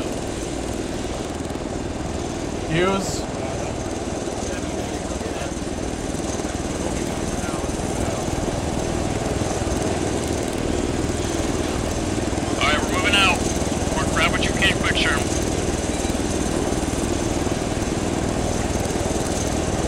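Helicopter in ARMA 3 military gameplay: a constant loud rotor and engine drone fills the whole stretch, with brief radio-style voices talking over it.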